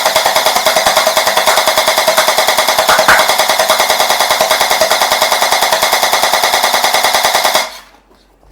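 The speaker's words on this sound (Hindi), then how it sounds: "दैट इज़ ग्लॉक का जेल ब्लास्टर पिस्टल" A Glock 17 electric gel blaster pistol fires fully automatic, a rapid, evenly spaced stream of loud, close clattering shots that lasts about seven and a half seconds and then stops abruptly, leaving near silence.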